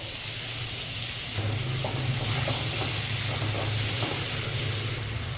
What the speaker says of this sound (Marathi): ह्यातच मी अमूल बटर घालणार आहे